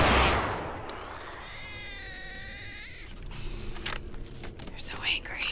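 Angry cats meowing and caterwauling in the video game STALKER Autumn Aurora, a drawn-out yowl in the middle with game noise and sharp bursts around it, fairly faint overall.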